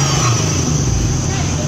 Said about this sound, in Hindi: अल्हम्दुलिल्लाह इंजन की परफॉर्मेंस आपने देख ही ली है।